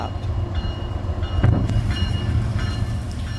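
A train rolling through the busy Galesburg rail yard, a continuous loud rumble with rattling wheel noise and a brief clank, heard from nearby.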